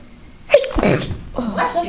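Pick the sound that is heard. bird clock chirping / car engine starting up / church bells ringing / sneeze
sneeze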